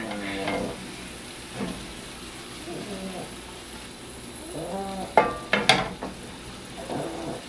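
Chopped celery and onions sautéing in a pan for a Thanksgiving green bean casserole, a steady sizzle with the scrape and clatter of stirring, close up, while a voice talks over it in places.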